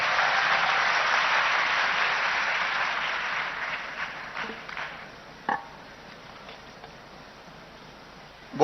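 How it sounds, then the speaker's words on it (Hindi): Crowd applause welcoming the chief minister at a youth mahapanchayat event in Bhopal, a dense wash of clapping that gradually dies away into a few scattered claps and a quiet room. "आइए जोरदार तालियों के साथ स्वागत करिए।"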